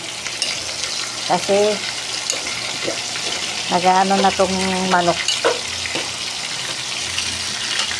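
Water pours and splashes into a sizzling pot of frying chicken, with a steady frying hiss throughout and a person speaking briefly over it.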